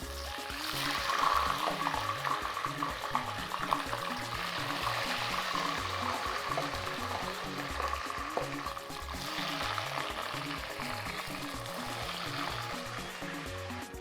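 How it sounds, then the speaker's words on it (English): Steady crackling sizzle of fish frying in hot oil, with bursts of popping spatter throughout and faint clinks of cooking; no talking. "Now the fish is popping."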